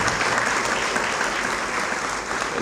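Dense, steady applause from an audience at a 2018 breakfast gathering, honoring the Gonzalez family, a continuous even roar of many hands clapping with no voices above it.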